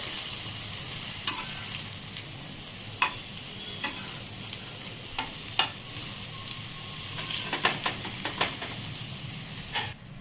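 A bitter gourd stir-fry is turned over in a frying pan, with a soft constant sizzle and occasional sharp clacks and scrapes of the spatula against the pan, close and moderately loud.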